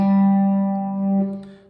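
B-bender electric guitar sounding a sustained chord inside a G bar chord, one steady ringing tone that holds and fades, played alone.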